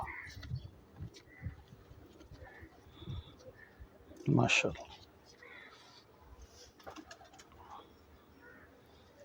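A female pigeon coos once, a brief low throaty burst in the middle, amid a man's speech and quiet background noise.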